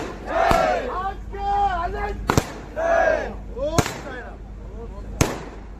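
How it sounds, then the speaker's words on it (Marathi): Firecrackers set off after an evening aarti at a temple gathering: a few sharp, loud bangs ring out at irregular intervals amid crackling and whistling fireworks, with lively crowd noise and shouting throughout. "आरती संपल्याच्या नंतर हे बघा इथं मस्तपैकी फटाके फोडण्यात आलेले"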